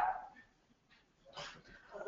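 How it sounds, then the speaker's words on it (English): Pet dogs bark and whimper in the background of a home office, a few short yelps and whines, faint and intermittent, heard alongside speech. "my dogs are barking in the background"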